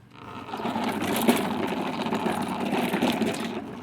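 A faulty lawn mower engine runs close and steady, a continuous buzzing drone that swells up in the first half-second and then holds even, with no talking.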